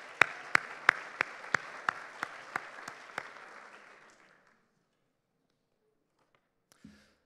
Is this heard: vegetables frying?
no